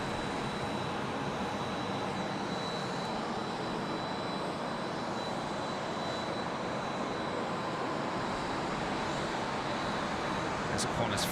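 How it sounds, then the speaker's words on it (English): A Qantas jet taxis at Sydney Airport, heard as a steady, broad engine roar with a thin high whine running throughout, continuous and fairly distant, with voices talking underneath. "As Qantas 409 comes into view, taxiing out on Charlie, heading to Melbourne"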